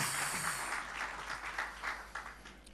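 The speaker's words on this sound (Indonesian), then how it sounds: "Berikan tepuk tangan yang lebih." Church congregation applause during a worship service, a dense burst of clapping that starts strong and gradually thins over a few seconds, with no speech on top.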